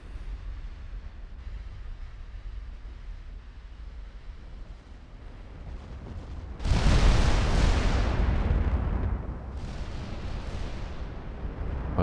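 Battleship main guns firing at a destroyer in Ultimate Admiral Dreadnoughts: a low ambient rumble, then a heavy, loud salvo boom with a long rolling decay, followed by a second, weaker blast.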